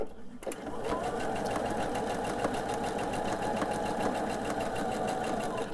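A sewing machine chain-pieces fabric with a fast, steady, close-up mechanical whir that runs without a break.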